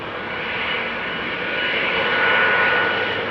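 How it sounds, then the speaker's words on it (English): A KLM Boeing 777-200 jet airliner at Amsterdam Schiphol Airport gives a loud, steady engine roar that swells slightly over a few seconds, with no speech. "This looks to be KLM Flight 871 to Delhi in India, 777-200."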